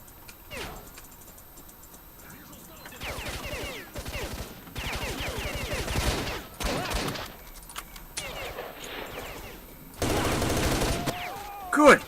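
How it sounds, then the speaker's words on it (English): Pistol and rifle fire in the shooter game S.T.A.L.K.E.R.: Shadow of Chernobyl, with bursts of rapid shots scattered through the stretch and a louder cluster near the end, mixed with a voice talking over the action. "I just put like 3 deagle bullets into him, and then almost half a clip of rifle ammunition."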